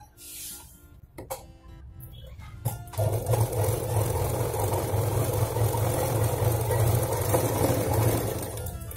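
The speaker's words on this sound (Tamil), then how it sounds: "இந்த அடிபாகம் எல்லாத்தையும் சேர்த்து வச்சு இங்க இருந்து இங்க வரைக்கும் ஒரு தையல் போட்டுக்கலாம்" Domestic sewing machine stitching the bottom seam of a handbag made from a blouse piece, a steady close mechanical whir running continuously after a few brief clicks and handling noises.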